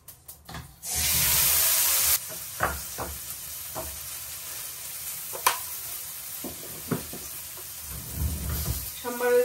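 Potatoes drop into hot oil tempered with cumin seeds, setting off a loud, steady sizzle that settles into a softer crackle, with a few clinks of a utensil stirring the pan close by.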